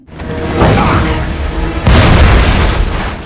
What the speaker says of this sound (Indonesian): sebelum ledakan menghancurkan kendaraannya